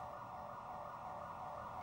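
An ambulance siren at night, a steady, continuous wail heard from below at a distance, faint and unbroken with no voices over it.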